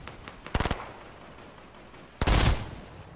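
Gunfire in the Fortnite video game, a short rapid burst of shots followed by a louder, denser volley a couple of seconds later, with quiet game ambience in between.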